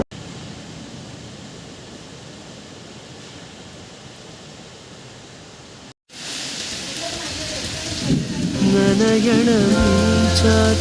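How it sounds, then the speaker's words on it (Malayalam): Heavy rain falling outside a house during a power cut, a dense, steady roar for several seconds that briefly cuts out, then returns louder with a voice and tonal sounds layered over it. "കുറേ നാൾക്ക് ശേഷമാണ് ഇത്രയും നല്ലൊരു മഴ കിട്ടിയത്"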